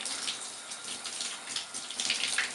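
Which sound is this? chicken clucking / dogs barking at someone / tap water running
tap water running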